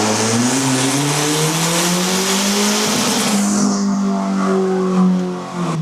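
A turbocharged Toyota Camry engine pulls hard in second gear, a loud, close, rising rev that climbs steadily before backing off near the end, with no talk over it.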